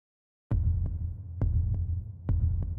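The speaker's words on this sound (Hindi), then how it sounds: "रवि का दिल तेजी से धड़कने लगा।" Heartbeat sound effect in a horror story set in a haunted forest: three heavy, loud double thumps spaced about a second apart over a low throbbing hum, with no voices.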